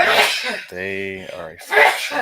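A single abrupt sneeze lands in the middle of someone talking at a tabletop toy-building session, and his speech carries on before and after it.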